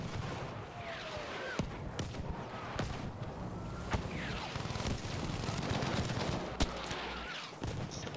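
An artillery barrage in the Battlefield V video game, with scattered distant booms and sharp impacts cracking at irregular intervals over a constant rumbling battlefield din, fairly quiet overall.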